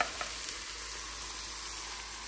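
Canned tomato paste fries in a pan of chili crab sauce made with Alaskan king crab, producing an even, hissing sizzle that stays steady and close for a couple of seconds with no talking.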